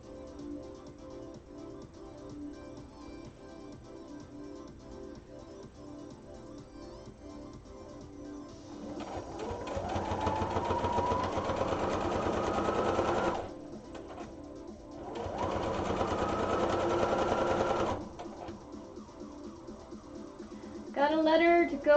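A sewing machine stitches a rolled hem on a dress, running in two steady bursts of a few seconds each with a pause between, close and fairly loud over quiet room background and some talk.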